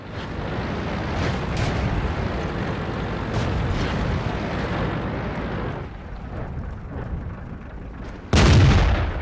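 Tank cannon fire in World of Tanks with a StuG III or Type 3 Chi-Nu, heavy rumbling battle noise through most of the stretch, then one sudden loud close boom near the end.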